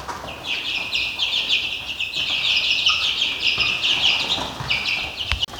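Hens clucking in a backyard poultry yard, a close, busy chorus of overlapping clucks and cackles that runs on without a break, with no one talking.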